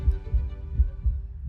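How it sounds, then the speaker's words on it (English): A heartbeat sound effect thumps in a steady, slow double-beat rhythm, deep and close, over a low sustained hum with no voices. "that heartbeat begins"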